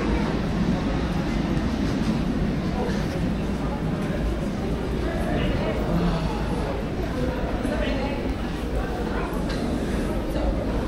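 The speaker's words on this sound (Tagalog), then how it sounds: "Lumagpas na yung tren." A train rumbles steadily past at a station during autumn, a loud, continuous low roar lasting throughout, with a person speaking over it.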